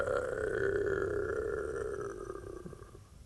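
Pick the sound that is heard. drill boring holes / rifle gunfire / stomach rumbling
stomach rumbling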